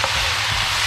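Vegetables being stir-fried in a hot pan give a loud, continuous, bright sizzle throughout a brief moment.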